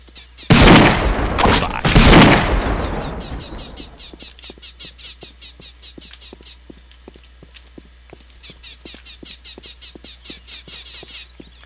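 Rifle fire in the video game Postal 2: two loud, booming blasts open, followed by a long run of quick, regular clicking ticks at steady volume, with no voices.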